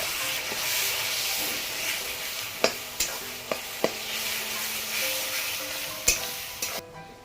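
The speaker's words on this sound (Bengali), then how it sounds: "এবার মশলাটা একটু মিক্স করে নিন।" Spice paste with garlic and ginger paste is stirred in a hot pan: a soft, steady sizzle under a string of sharp scraping clicks from the spoon, a few closely spaced, with no voice.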